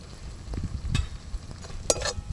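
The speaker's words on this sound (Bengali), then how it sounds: "এবার মশলাটা ভালো করে একটু কষিয়ে নেব" Ginger paste and turmeric with spice masala being stirred in a hot pan for ghugni, soft scraping strokes and light sizzle with a couple of sharper spoon clicks near the end.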